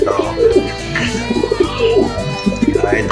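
Racing pigeons coo in low, rolling, repeated calls close by at a training toss in Imus, Cavite, a steady murmur of overlapping coos throughout.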